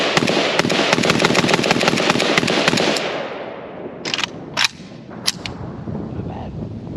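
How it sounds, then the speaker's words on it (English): Romanian Legion AKM rifle fitted with a Russian magazine, firing a rapid string of sharp, loud outdoor shots for about three seconds, followed by a few scattered single reports and fading echo. "let's try this Legion AKM with the Russian mag"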